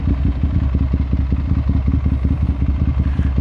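A Yamaha MT-09 motorcycle engine running roughly and shaking, with a loud, close, steady rapid pulsing throb and clattery mechanical rumble throughout, no voices.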